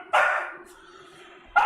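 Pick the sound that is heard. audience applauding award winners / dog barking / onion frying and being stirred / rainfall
dog barking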